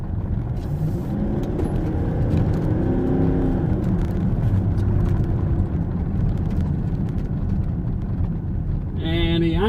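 A Range Rover Vogue TDV8 accelerates hard from 30 mph, its engine note rising steadily under a loud cabin whir and road roar, with a brief electronic chime at the very end.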